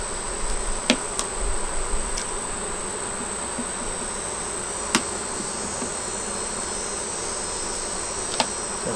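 Honey bees buzz steadily around a hive during a hot month, a dense continuous outdoor drone with a few faint taps and knocks, no voices.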